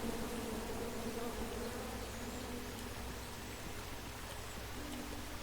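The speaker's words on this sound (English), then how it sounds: "Come at me, bees!" Bees swarm with a steady, dense buzzing drone around a beehive in the King's Quest video game, continuous and fairly loud throughout with no speech.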